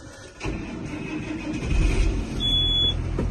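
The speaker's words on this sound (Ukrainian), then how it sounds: "Ось завели тракторець." A John Deere 7530 Premium tractor's heavy engine cranks and catches, settling into a steady low idle rumble; a short electronic beep sounds partway through.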